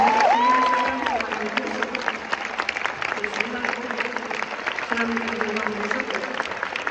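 A concert crowd in Zaragoza claps and cheers as a loud, steady wash of applause at the end of a tour show, with a voice speaking over it at moments.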